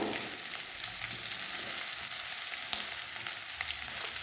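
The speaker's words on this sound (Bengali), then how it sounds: "পেঁয়াজ ফ্রাই হচ্ছে।" Onions frying in a pan with chopped ginger and green chillies, a steady close sizzle and crackle that runs unbroken throughout with small pops here and there, no voices.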